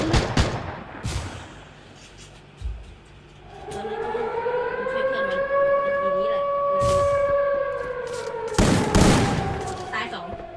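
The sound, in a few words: gunfire in a video game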